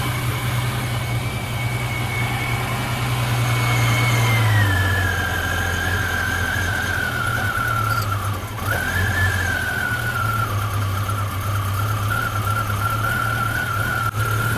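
Jeep 4.0L engine running steadily with a new alternator bracket fitted, a constant mid-pitched hum and drone with a whining squeal that dips in pitch as revs ease, close and continuous.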